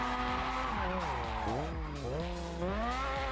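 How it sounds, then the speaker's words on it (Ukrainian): A car drifting on slick tires in JDM: Japanese Drift Master, with a steady loud engine drone and shifting, wavering revs, joined by sustained tire squeal throughout. "От вам дрифт на сліпах."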